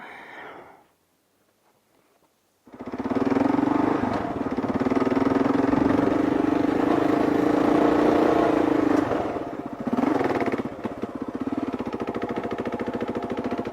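A Kawasaki KLR650 motorcycle ridden off-road, its single-cylinder engine starting after a near-silent pause, then droning loud and close at steady revs before easing off and picking up again.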